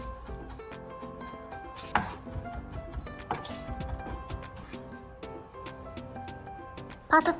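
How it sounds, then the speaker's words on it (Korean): A knife taps repeatedly on a cutting board chopping garlic in quick, light chops, fairly soft and close, with a few louder strikes. "마늘도 찹해줍니다."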